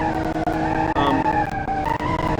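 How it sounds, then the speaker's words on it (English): A Gavril Bluebuck, a classic Impala-like car in a video game, driving with its leaf springs and tyres producing continuous loud squealing and creaking tones, steady and close, with brief dips in level. "Creaking noise you're hearing is leaf springs."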